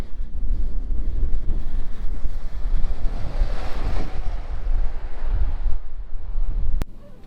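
A strong gale roars across the microphone at Point Avoid coastal lookout on a cool midsummer day, a loud continuous buffeting rush that swells and eases, heard alone with no speech.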